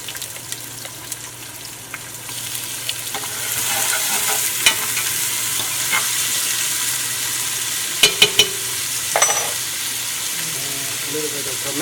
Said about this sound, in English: We're going to add the onions, saute a little bit of onions, and a little bit of garlic.